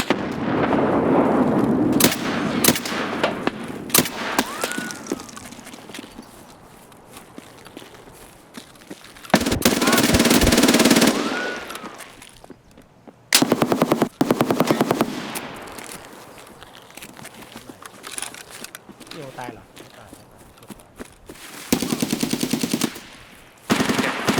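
Automatic gunfire bursts from the shooter game Escape From Tarkov, loud and sharp, arriving in several separate volleys with brief pauses, mixed with footsteps and ambient game noise.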